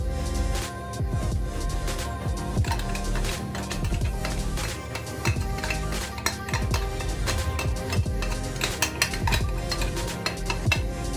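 Spice powder stirred and cooking in hot oil in a pan over low heat, for a homemade cough and cold remedy: steady scraping and clinking of a spoon against the pan over a continuous sizzle, close and fairly loud, with no talking.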